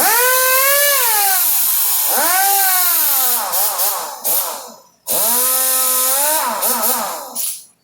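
A power tool, likely an impact or electric driver, runs down transmission pan bolts in repeated whining bursts that rise and fall in pitch, each a couple of seconds long, loud and close with brief pauses between.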